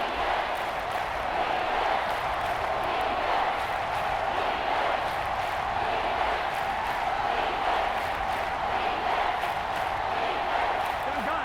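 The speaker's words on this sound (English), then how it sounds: "The Arrowhead crowd in full roar." A packed crowd at Arrowhead Stadium roars during an NFL game between the Kansas City Chiefs and Cincinnati Bengals, a dense, steady wall of voices and cheering that holds at full volume throughout.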